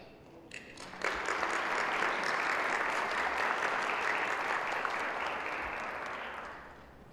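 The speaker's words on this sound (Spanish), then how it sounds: "yo quiero darle un aplauso a todos, a ustedes, por estar aquí" An audience at an annual medical meeting on chronic kidney disease in older adults breaks into applause that swells within a second, holds full and steady for several seconds, then gradually thins and fades.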